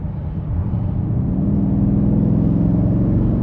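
A 2023 BMW X6 M50i engine runs with a deep, steady rumble that swells slightly and holds a smooth, even drone, heard close and alone.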